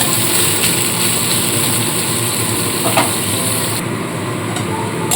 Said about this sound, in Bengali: পেঁয়াজটা খানিক্ষণ ভেজে নেবো যতক্ষণ না একটু লাল লাল কালার হয়